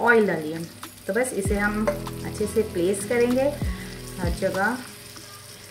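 Mushrooms sizzle and fry in butter in a kadai, a continuous crackling hiss heard under a voice talking throughout.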